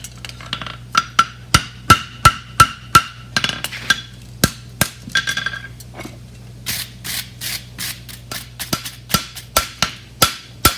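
Sharp, ringing hammer blows flatten a deep seated bar shoe, struck in quick rhythmic runs with short pauses between bursts, close and loud with no talking.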